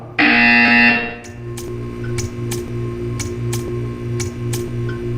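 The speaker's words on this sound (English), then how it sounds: "When you hear the buzzer, stare at the art." Loud electronic buzzer in Portal 2, one sharp blare about a second long followed by a steady hum with rhythmic ticking clicks.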